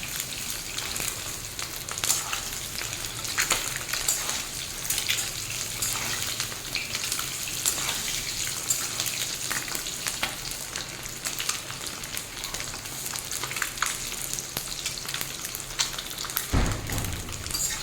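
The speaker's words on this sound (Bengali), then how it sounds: "সব দিকটা যাতে সমানভাবে ভাজা হয়" Eggs fry in oil in a wok (kadai), giving a steady, close crackling sizzle with scattered pops throughout and a brief clatter near the end. No one speaks.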